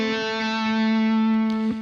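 A distorted electric guitar sustains a single held note from a riff, loud and steady, with a brief picked change near the end, played alone without talk.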